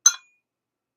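A single bright clink from a magnetic dosing cup on an Option-O Lagom P64 coffee grinder, one short ringing tap that fades quickly into silence.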